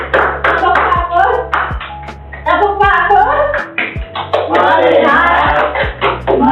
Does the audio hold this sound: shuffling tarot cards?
no